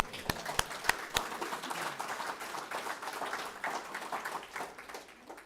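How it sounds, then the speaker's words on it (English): Audience clapping at a launch event, a few sharp near claps at the start spreading into steady mid-level applause across a room, with some background voices mixed in. "Yeah, I think that deserves a clap here."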